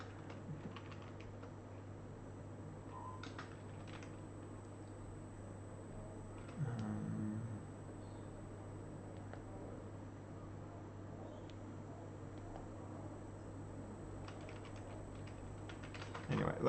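Faint, quick keystrokes clatter on a computer keyboard during a game-programming session in Zig, a steady soft patter of typing over a low hum throughout.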